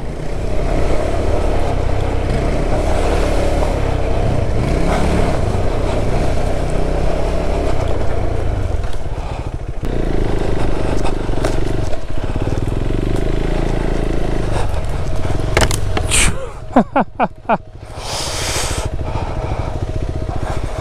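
A KTM 390 Adventure motorcycle rides loudly along a road through water puddles, its engine droning steadily with wind rush, then surging through a brief splashing burst near the end, with no talking.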